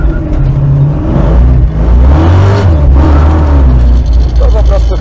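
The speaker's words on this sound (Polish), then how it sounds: "No a my sobie tutaj jeździmy takim troszeczkę mocniejszym, 500-konnym samochodzikiem" A 500-horsepower Ford Mustang engine revs and drones steadily while driving, loud and close, its deep rumble rising and falling under ongoing talk inside the car.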